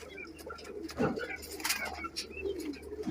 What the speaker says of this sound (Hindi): ये देखें माशाल्लाह कबूतर का साइज देखें कितना बड़े